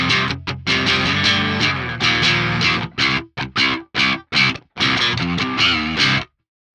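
Electric guitar played through an Axe Fx III modeling a Soldano SLO 100 rhythm channel, a spanky, lightly distorted tone; loud strummed chords and chopped stabs with short gaps, ringing out fully near the end before stopping.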